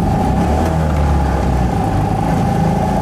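Trojan 200, also known as the Heinkel Kabine bubble car, with its small engine revving in a loud, close, continuous buzzing drone under acceleration.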